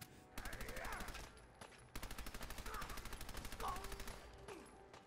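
Automatic gunfire in Fallout 4 during a fight with a ghoul: rapid bursts of loud, close shots, one short burst followed by a longer sustained stream of rattling fire, with a brief pause between them.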